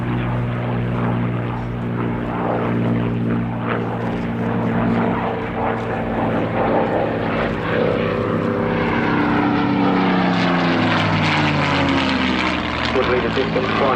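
Piston-engine drone of a Spitfire displaying at an airshow, a loud rumbling propeller note that rises and shifts in pitch as the fighter passes, with a commentator talking over it.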